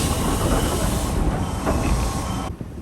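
A Nankai Kada Line two-car train rolls to a stop at Kada Station, with rumbling wheels, squealing brakes and hiss fading as the train halts at the end.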